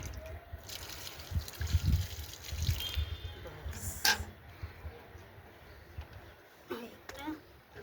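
Water poured onto a potted hibiscus after pruning drains out through the soil, giving a soft trickling and dripping under faint background noise, with a brief sharper splash midway.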